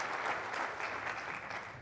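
Audience applause at a conference welcome address, a brief burst of many hands clapping together in a large room, steady and moderately loud.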